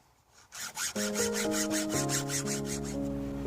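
A file rasps across the teeth of a hand saw, a steady run of rapid, even scraping strokes, close and fairly loud, with a ringing metallic tone from the blade under the strokes.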